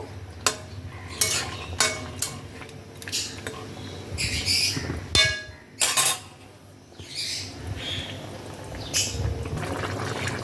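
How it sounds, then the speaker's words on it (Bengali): A spoon stirs fried cauliflower into koi fish curry gravy in a pot, making irregular metallic scrapes and clanks with wet sloshing between strokes, close by. "ফুলকপিটা ঝোলের সাথে ভালো করে মিশিয়ে নিয়ে আবারও খানিক্ষণ ফোটাবো"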